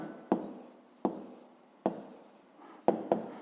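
Writing by hand on paper while working a fifth-grade math exercise: sharp pen or chalk taps and short scratchy strokes come in separate bursts, close and fairly quiet.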